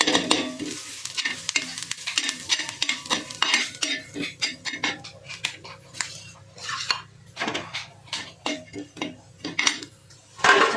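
Coriander seeds roasting in a pan for a Maharashtrian vegetable dish, stirred briskly with a metal spoon that repeatedly scrapes and clinks against the pan under a light dry sizzle, close and fairly loud in irregular bursts.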